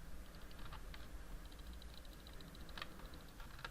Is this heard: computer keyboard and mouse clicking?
yes